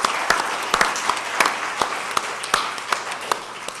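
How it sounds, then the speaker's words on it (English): Applause from an audience at an evening political Q&A forum, a steady crowd clatter with sharper individual claps standing out, moderately loud and continuing throughout without speech. "I suppose we could give everybody a cheer for being here this evening."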